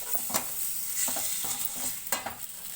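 Chicken fry with hot teja chilli powder being stirred in a sizzling pan, with a few distinct scraping stirs over a steady frying hiss, close and alone.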